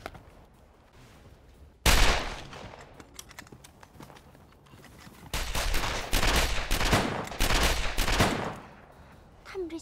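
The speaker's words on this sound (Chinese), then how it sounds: "他们这枪声，好像是从天上打的呀" Gunfire crackles in a Chinese war drama set in the anti-Japanese war, a sudden loud burst followed by a quieter stretch, then dense rapid volleys of shots and clatter for several seconds.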